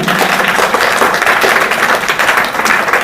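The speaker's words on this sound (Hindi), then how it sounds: "जोरदार ताली" A school audience at a Teachers Day celebration claps loudly in a dense, continuous burst of applause throughout the short stretch, with no talk over it.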